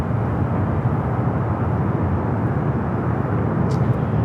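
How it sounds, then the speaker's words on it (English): A United Express SkyWest airliner arrives at Los Angeles International Airport on the north side, putting out a continuous, even roar of jet noise at moderate loudness with no clear peaks. "Next arrival here on the north side is United Express SkyWest, flight 5328, committed from Reno."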